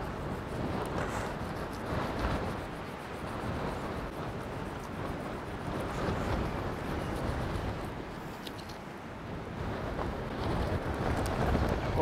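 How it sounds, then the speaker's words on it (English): Strong wind roars steadily into the microphone on a New Zealand coastline, a loud, continuous buffeting rumble with gusts rising and falling throughout. "Oh my gosh, so windy."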